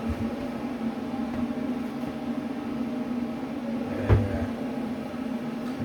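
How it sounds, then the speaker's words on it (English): Electric kettle heating water for home beer brewing, a steady low hum and hiss that runs throughout, with one brief louder knock near the end. "Sorry about the noise, like I say, of the kettle."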